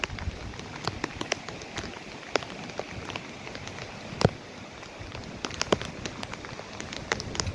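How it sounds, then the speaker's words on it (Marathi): Heavy monsoon rain pours steadily over flooded paddy fields in Konkan, a dense continuous patter with scattered sharper drop impacts throughout, fairly close and even in level with no voices. "प्रचंड पावसाचं प्रमाण सध्या 3-4 दिवसापासून कोकणामध्ये पावसाचा वर्षाव होत आहे."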